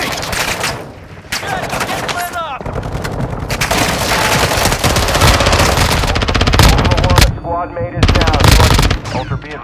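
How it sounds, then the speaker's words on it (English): Automatic and single gunfire bursts in Call of Duty Warzone on Ashika Island, loud and dense rapid volleys with brief pauses, with game voice callouts and radio chatter in between. "You are taking effective fire."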